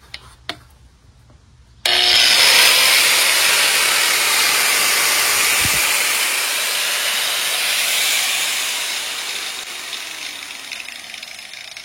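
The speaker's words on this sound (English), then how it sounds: "let's use the much bigger angle grinder, okay? This is going to draw more amps." A large angle grinder spins up abruptly and runs loud and steady with a bright, hissing whine, close by, after a short quiet lead-in.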